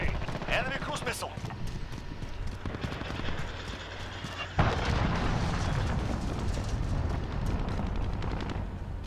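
In a Call of Duty Modern Warfare Domination match on Grazna Raid, a cruise missile strikes with a sudden loud blast midway, leaving a heavy rumble under scattered gunfire and players' voices.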